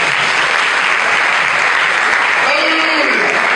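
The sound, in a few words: audience applause and cheering for the spider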